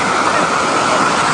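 Sea waves washing onto a beach shore at Pusan, a close, continuous rushing of surf and water, loud and steady with no break across the brief moment.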